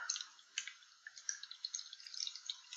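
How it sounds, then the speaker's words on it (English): Water is poured into a container of soil, giving faint, soft trickling and dripping with small splashes, close and quiet with no talk. "Pouring the water in."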